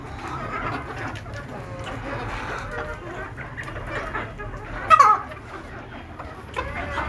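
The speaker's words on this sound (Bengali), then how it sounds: "আমি খুব সাধারণভাবে এই ছাদে দেশি মুরগিগুলো পালন করি" Free-range desi chickens kept on a rooftop give soft clucks and scattered calls at moderate distance, with a brief louder squawk midway and someone speaking over them.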